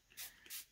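Two quick close hissing bursts of Glimmer Mist spray onto paper, each short and soft, with a brief gap between them.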